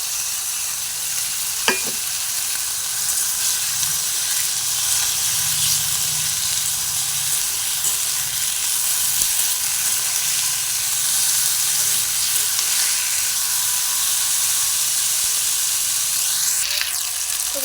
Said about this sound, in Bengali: তো দেখো আমি কাঁচা লঙ্কাটাও দিয়ে দিলাম এটা হালকা ভেজে নেবো